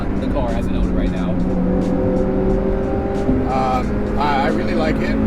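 A junkyard-spec NB Miata on an uphill touge canyon run, its engine droning and shifting pitch as it revs and changes gear, heard from inside the car under steady conversation.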